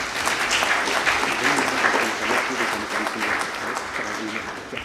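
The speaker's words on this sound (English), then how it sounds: "Let's give a big round of applause." A dense, steady burst of audience applause from a crowd at a business summit, sustained throughout with no voices standing out.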